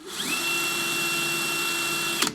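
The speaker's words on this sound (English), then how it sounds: "I'm just gonna set my drill in here." Power drill boring valve holes in the deck of a model steam engine tender, a close steady whine that rises quickly to speed, holds, then stops with a brief rattle.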